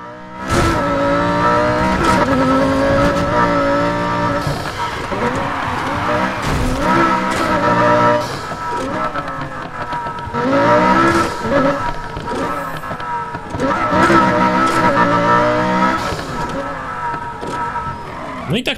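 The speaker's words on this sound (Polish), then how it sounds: "No kurde, to jest Lambo, nie powinno tak driftować, no" A Lamborghini drifts in Need for Speed Heat, its engine revving and rising in pitch while tires squeal through long slides, loud and continuous with repeated surges, and someone talks over it.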